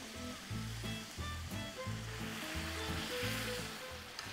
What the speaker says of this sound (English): Now I want to add a little bit of white wine.